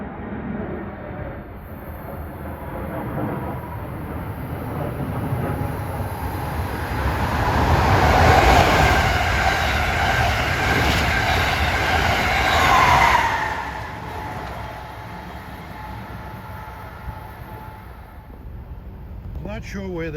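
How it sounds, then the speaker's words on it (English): An Amtrak Acela Express, train 2117 from New York to Washington, rushes past at speed in Delaware, a rising roar that peaks with rolling wheel and wind noise, then fades; someone speaks over it. "here comes train 2117, New York to Washington"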